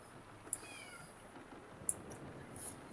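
A cat meows from inside a filing cabinet, two short, fairly clear meows about a second apart over a quiet, steady background hiss, with a fainter cry trailing at the end.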